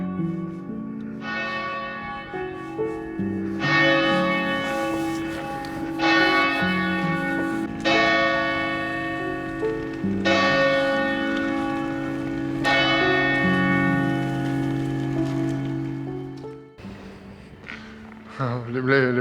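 A large cathedral church bell tolls repeatedly, each loud, ringing strike blooming with rich overtones and decaying slowly into the next, about six or seven strokes before it fades to clatter.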